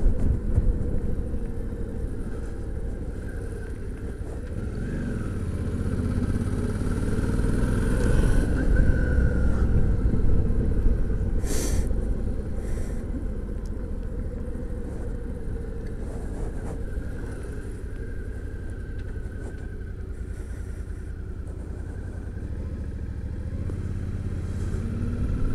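Running motorcycle engine, a steady loud low rumble lasting throughout with slight swells in intensity and no voices.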